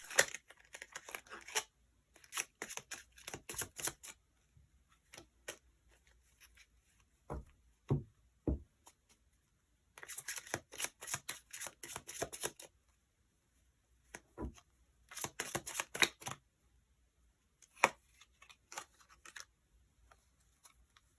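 Tarot cards being shuffled and drawn during a love-fortune reading: bursts of crisp card riffling and flicking alternate with short pauses and a few sharp taps as cards are laid down, close and fairly quiet with no talking.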